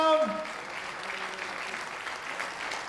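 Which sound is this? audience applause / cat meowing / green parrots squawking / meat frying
audience applause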